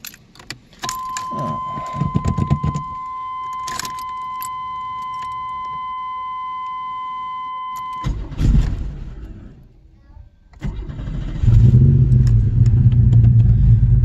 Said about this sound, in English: let's go fire up and start the idle relearn process here